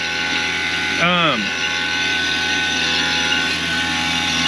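A vacuum pump hums and drones steadily as it evacuates an HVAC system through a gauge manifold during an emergency compressor change-out, loud and close with mechanical whine; a brief voice-like sweep breaks in early.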